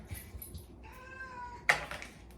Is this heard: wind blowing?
no